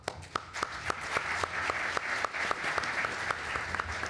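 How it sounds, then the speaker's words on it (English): An audience at a panel event on measuring advertising effectiveness applauds the panelists, a soft, steady patter of clapping from a modest crowd heard from some distance, with a few sharper individual claps standing out. "I think we should applaud them for all of the research done."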